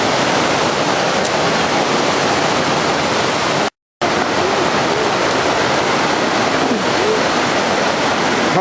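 The Jackson River rushes steadily in a remote wilderness spot reached only by hiking, a loud, dense broadband roar of flowing water with no talk, broken by a brief complete dropout partway through.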